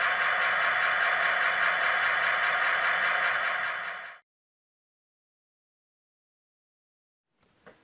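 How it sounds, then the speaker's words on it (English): A Rapido GP-9M model diesel locomotive's sound system gives a steady, buzzing engine drone for about four seconds, then cuts off abruptly, followed by silence and a brief faint click. "the way the engine revs up"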